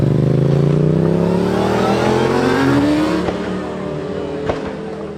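Cars revving and accelerating away as they leave a car meet, a loud close engine roar climbing in pitch and then fading as the vehicles pull off, with a few sharper bursts afterward.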